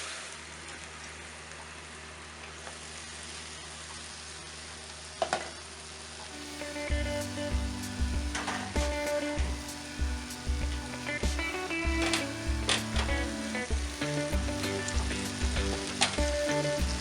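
Pork dumplings browning in a pan give off a steady faint sizzle that rises into louder frying crackle partway through, with occasional clinks and scraping against the pan and no talk.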